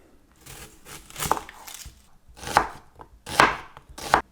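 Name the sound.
chopping a red onion with a knife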